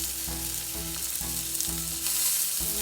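Prawns and garlic frying in butter in a pan, a constant close sizzle with a faint rhythmic hum running under it.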